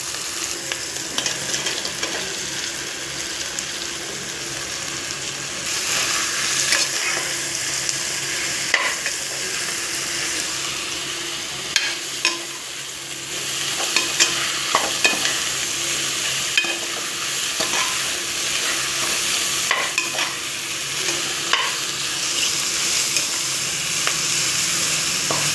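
Sliced mushrooms sizzle steadily in a pan for mushroom biryani, with a spoon stirring and scraping in irregular bursts over the constant frying hiss, close and without any talk.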